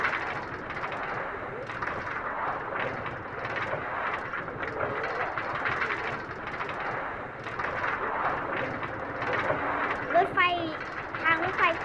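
Tram or train running along a railway, a steady broadband rumble with rattling that holds through the whole stretch at moderate level, with a brief squeal near the end.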